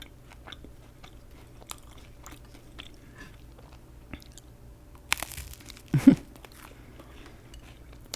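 A crunchy bite into toasted garlic bread brushed with melted butter and crushed garlic, two close sharp crackles near the end of a quiet stretch with faint tapping before.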